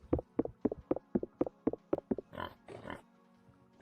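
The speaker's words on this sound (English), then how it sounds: "We have 2 sows in here." Two sows in the Vintage Story video game grunt in a quick, regular series of short, close oinks, followed by a couple of longer snorting squeals.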